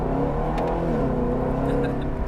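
Engine of an HSV GTS revving steadily through its bimodal exhaust, a loud, continuous deep rumble close by with no talk over it.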